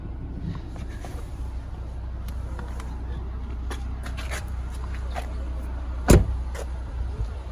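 A 2019 Jeep Cherokee Trailhawk SUV engine idles steadily with a low, even rumble, and a single brief thump stands out near the end.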